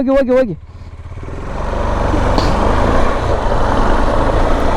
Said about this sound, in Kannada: ಬೈಕ್ಗಳೆಲ್ಲ ಹತ್ತಿಸ್ತವ್ರೆ